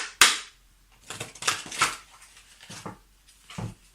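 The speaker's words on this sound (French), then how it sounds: "Je vais tirer 5 cartes" Lenormand cards being drawn and laid out, a handful of sharp snaps and papery flicks close up, spaced irregularly over a few seconds in a quiet room.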